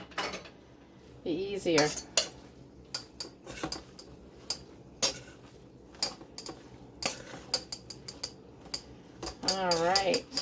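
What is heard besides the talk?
stirring spinach pie filling with a spoon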